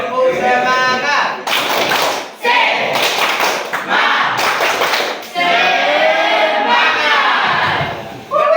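A standing school class in Padang repeats a rhythmic spirit clap, sharp patterned bursts of group clapping and chanting in the middle with children's voices before and after, loud and close.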